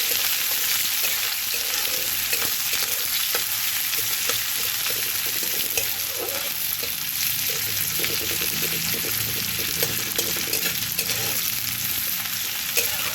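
A large chopped onion frying in oil makes a steady, close sizzle with light, irregular stirring clicks scattered through it, holding an even loudness from start to finish.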